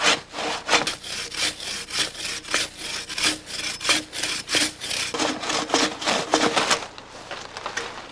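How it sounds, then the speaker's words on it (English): A bow saw cuts through the trunk of a small tree being cleared from a forest trail. It makes loud, close, rhythmic push-pull rasping strokes that stop near the end. "then we'll use the bow saw on this one."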